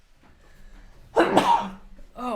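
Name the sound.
sneeze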